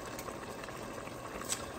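Chili with tomatoes and a little water simmering down in a pot, a continuous soft bubbling hiss close by with small pops.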